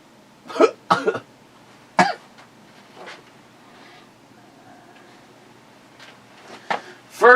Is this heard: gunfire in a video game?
no